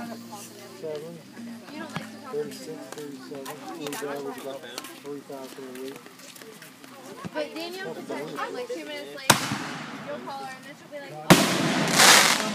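Chatter and voices fill most of the stretch at a July 4th fireworks show, then two sharp firework bursts crack out near the end, the second louder with a fizzing, crackling tail.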